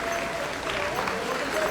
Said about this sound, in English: So give a big round of applause for Cassandra Janikis.